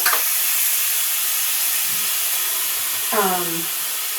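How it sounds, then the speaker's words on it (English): An Instant Pot venting its pressure gives a loud, continuous close hiss of escaping steam that fills the whole stretch, with a voice briefly speaking over it near the end. "So I'm going to release this pressure."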